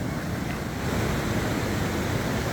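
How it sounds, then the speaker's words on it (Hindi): A fast-flowing river rushes beside the road in the mountains on the route to Kalam Valley, Pakistan, giving a dense, steady roar of water that fills the short stretch at moderate level. "तेज़ बहाव"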